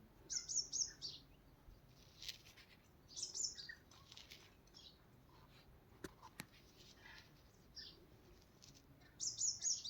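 Two myna birds chirp in short bright bursts at the start, the middle and the end, with a faint flutter of wings and quiet background in between.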